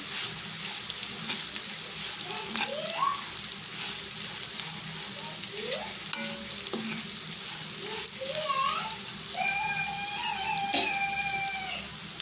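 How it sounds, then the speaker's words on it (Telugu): Pieces of deep-fried okra are stir-fried with chilli powder in a pan, giving a steady sizzle throughout with faint tonal sounds and light stirring mixed in. "దీంట్లో మనం ఆల్రెడీ డీప్ ఫ్రై చేసుకున్న బెండకాయ ముక్కలు వేసేసుకున్నాం ఇవి వీటిని కూడా మంచిగా కలుపుకున్నామండి కొంచెం కారం అది పట్టే వరకు"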